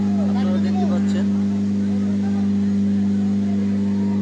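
Trawler on a river carrying bodies after a launch fire at Barguna: a loud, steady engine drone with strong low hum, continuous throughout, with faint voices behind it.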